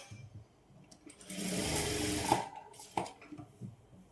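A sewing machine stitches a dart in a saree blouse in one close, fast whirring run of about a second, set between quieter handling sounds and soft clicks.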